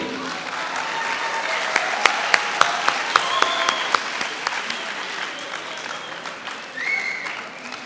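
An audience at a university Urdu mushaira in Bahawalpur breaks into full applause, a dense wash of clapping with a few sharp claps standing out that gradually thins as it goes on, with some voices mixed in.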